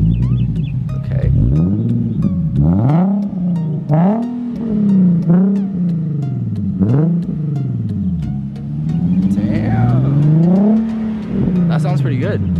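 A Nissan 350Z's V6 engine revs up and down repeatedly at close range, its pitch rising and falling in surges while people talk over it.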